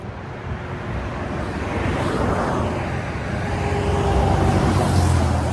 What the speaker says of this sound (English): All the traffic here on Easter.